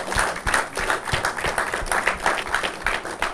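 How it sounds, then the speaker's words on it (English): Audience clapping hands in a hall during a live program, a dense, pulsing patter of many hands that swells and dips steadily throughout, close and fairly loud with no speech on top. "Do I need to tell you to clap your hands or to show her some love?"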